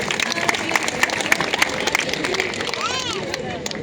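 Loud applause from the audience at a comedy show during a temple fair at Hukkeri Math in Haveri, rapid dense clapping with a crowd murmur and a voice over it.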